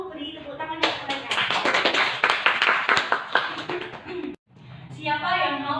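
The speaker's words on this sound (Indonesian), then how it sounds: "Beri tepuk tangan untuk mereka" A classroom of students claps for a student group after its presentation. A burst of loud, close applause lasts a few seconds and then stops abruptly, with talking just before and just after it.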